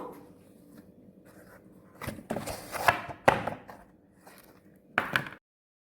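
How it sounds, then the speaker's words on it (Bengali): A knife cuts set jaggery sandesh into pieces on a plate, making a few dull scraping taps and knocks close by in an otherwise quiet kitchen. "এবার আমি পিস পিস করে কেটে নিচ্ছি"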